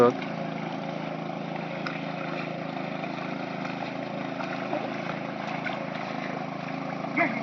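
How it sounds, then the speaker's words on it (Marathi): A power tiller engine runs steadily at a distance while levelling a field in the Konkan countryside, a constant low drone heard faintly. "तो दादू पावर टेलर चालवतो तिकडे"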